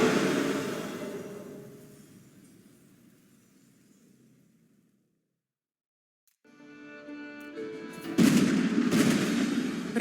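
Cannon fire at the Battle of Formigny between French and English forces: a rumbling roar fades into near silence, then sharp, loud booming blasts burst out near the end.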